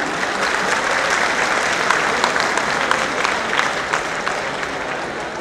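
Steady, dense applause from a large audience of children and adults at a state Uttar Pradesh Day event, loud and continuous with no pauses.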